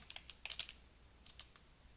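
Keys tapped on a computer keyboard while entering a help search on Wikiversity, a quiet cluster of quick clicks in two short bursts with a pause between, no voices.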